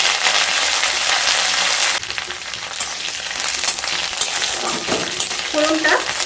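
Whole mustard seeds, fennel seeds and a few curry leaves sizzle in hot mustard oil with a loud, hissing crackle that drops a little after two seconds, then carries on with faint stirring clinks.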